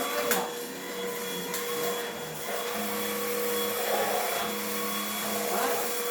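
Cordless lightweight vacuum cleaner runs steadily throughout, a continuous whine with a constant motor hum and mild surges, close and fairly loud, with faint talk in the background.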